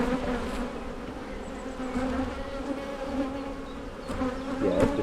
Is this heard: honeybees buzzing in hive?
yes